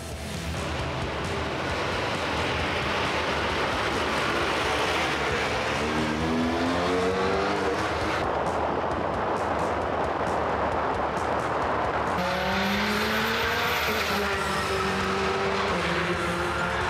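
A BMW M4 DTM race car at a post-season test on the Jerez de la Frontera circuit roars continuously and loudly, its engine pitch sweeping up and down through gear changes as it passes.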